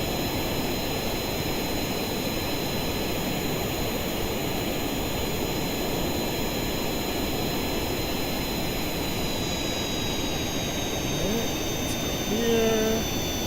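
A jet engine on a player-built plane in Kerbal Space Program roars in a steady, loud drone at cruising altitude, continuous throughout with faint whining tones above.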